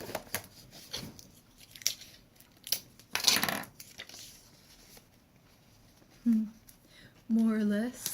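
Scissors cut through gift basket materials in a few crisp snips, with people talking around the sounds and a brief bright rustle partway through.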